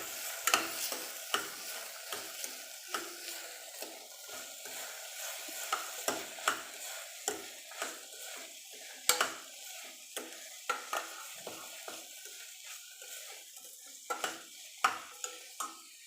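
A spoon stirs red chili powder, coriander-cumin powder, salt and khichdi masala together in a cooking pot for kadhi khichdi, giving repeated close scraping strokes in an irregular rhythm with no voices.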